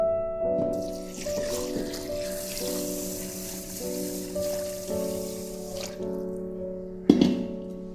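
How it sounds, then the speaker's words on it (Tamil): Water runs steadily into a rice cooker holding half a kilo of seeraga samba rice for biryani, a continuous pouring trickle with a brief clatter near the end. "தேவையான அளவு தண்ணி ஊற்றிக்கலாம்."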